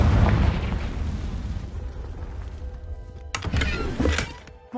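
A Confringo blasting spell bursts in Hogwarts Legacy with a loud, deep boom that rumbles and fades, followed by a couple of sharper crackling pops from the magical blast.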